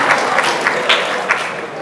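Audience applause at a talk about a tour to Israel's startup scene, steady dense clapping from a crowd throughout, loud and close with no speech over it.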